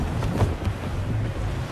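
A sailing ship in Assassin's Creed Black Flag runs under full wind, with steady rushing wind and surging water forming a loud, continuous low roar of waves and air.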